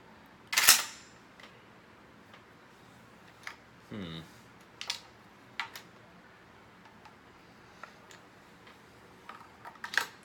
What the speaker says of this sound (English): make it eject a shell